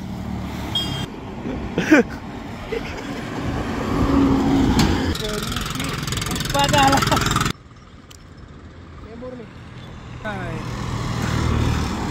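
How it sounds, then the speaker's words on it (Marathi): Car approaching and passing along a roadside, a rising engine rumble and tire noise building through the middle before cutting off abruptly, with people talking over it. "अजून एक गाडी आलेली आहे"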